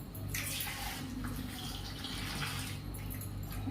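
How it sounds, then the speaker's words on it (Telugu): Running water splashing steadily as fresh coriander and mint leaves are rinsed clean for a goat tripe curry, a close, continuous wash with faint drips and no talking. "కొత్తిమీర పుదీనా రెండు శుభ్రంగా కడిగి మనం దాంట్లో ఇప్పుడు కొంచెం వేసేద్దాం"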